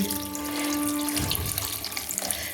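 Water pours into a cooking pot for green pea ghugni in a steady splashing stream with a brief hum, close by and alone, then the flow changes midway.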